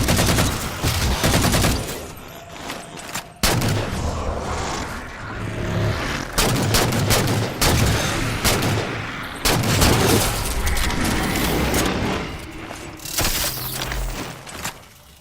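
Assault rifle fire in Halo 4 during a fight in the Infinity mission, with loud bursts of rapid shots chattering in uneven clusters against explosions and battle noise over fifteen seconds.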